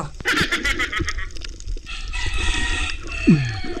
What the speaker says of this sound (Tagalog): Sunod-sunod na rin ang manok.